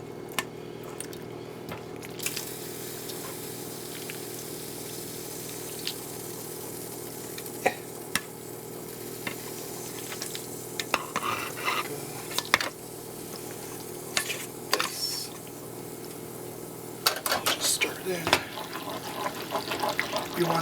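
Macaroni stirred into a pot of beef sauce, a steady wet squishing and scraping that grows busier toward the end, with occasional clinks of the spoon against the pot and no voices.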